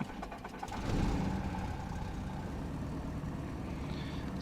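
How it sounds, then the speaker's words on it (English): A simulated Beech Duchess piston engine idles at about 1000 RPM in a flight simulator, a steady low rumble that swells after a second, then holds an even, close drone with a faint high whine. "It's one good engine."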